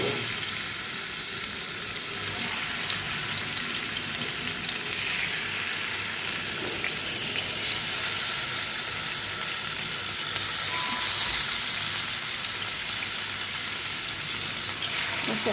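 Hilsa fish frying in a hot pan, a dense, steady sizzle with crackling spatter that continues without pause throughout.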